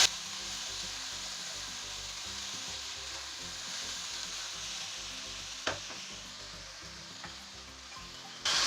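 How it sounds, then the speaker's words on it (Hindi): Vegetables sizzle steadily in a hot pan as they are stir-fried and mixed with spices, chicken powder and Chinese salt for chicken fried rice, with a constant frying hiss and occasional scrapes of stirring. "मिक्स करते हैं वेजिटेबल्स को अच्छी तरह से"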